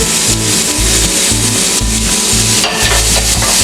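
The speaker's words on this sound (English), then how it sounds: "saute them well. Cook for just 1 more minute until the tomato becomes mushy." Chopped tomatoes with salt, pepper and garam masala sautéing in a pan, a loud steady sizzle under rhythmic thumping stirs, close and continuous.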